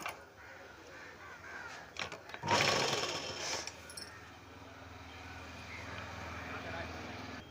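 A sewing machine stitches the collar of a Punjabi uniform top, with a short loud burst of rapid whirring stitching in the middle and quiet room noise before and after.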